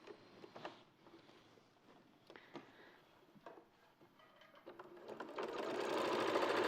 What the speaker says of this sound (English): all I'm going to do then is just do a quick stay stitch around the neckline